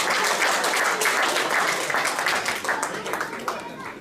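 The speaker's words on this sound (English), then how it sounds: "give one more round of applause to the dance team" An audience at an Indian Independence 75th anniversary celebration claps for a dance team, steady dense applause that holds throughout and tapers slightly toward the end, heard from within the crowd.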